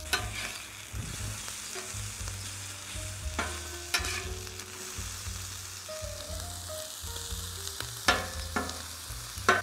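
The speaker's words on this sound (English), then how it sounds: "Okay, let's flip the potatoes again." Potatoes, onions and sausage fry on a hot griddle, a continuous sizzle punctuated by sharp metal spatula scrapes and taps at irregular intervals, close up.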